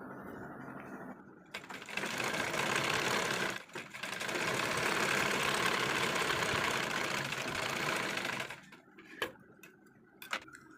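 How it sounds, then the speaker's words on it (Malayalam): Sewing machine stitching a sleeve seam from one end to the other, a steady rapid mechanical whir running for several seconds with a brief stop partway, then a few light clicks and taps as it halts. "ഞാനൊരു കുറച്ച് ഗ്യാപ്പ് ഇട്ട് ഒരറ്റം മുതൽ മറ്റേ അറ്റം വരെ സ്റ്റിച്ച് ചെയ്തെടുക്കുന്നുണ്ട്"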